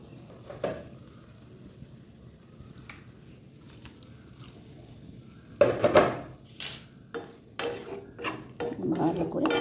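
White sauce pasta is stirred and mixed in a pan, with soft squishy scrapes and spoon clinks that come in uneven bursts and grow busier toward the end, close and fairly quiet.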